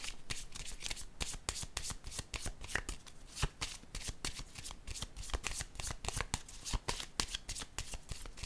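Tarot cards are shuffled continuously, a dense run of quick crisp riffling snaps and paper rubs close by, with no voice over it.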